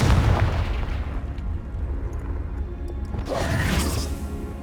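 The Confringo fire-blast spell goes off in Hogwarts Legacy with a heavy low boom that rumbles on, followed by a rushing whoosh and a second burst, loud and close with no talk.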